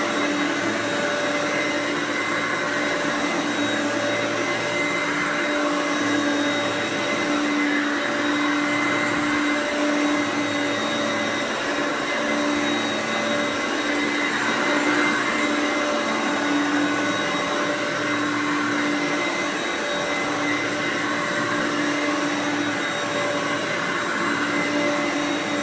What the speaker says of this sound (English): that was the Hoover Concept One.